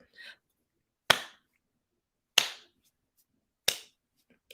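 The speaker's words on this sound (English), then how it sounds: "It's my slow 80s clap." Three slow, sharp hand claps spaced about 1.3 seconds apart, in an exaggerated 80s-style slow clap, each crisp and isolated against near silence, with a brief faint voice at the start.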